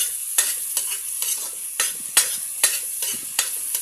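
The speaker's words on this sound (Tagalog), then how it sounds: "Isasalin na natin ang bawang at saka sibuyas." Garlic and onions fry in a pan with a constant bright sizzle, broken by regular scraping strokes of a spatula roughly every half second, close and fairly loud.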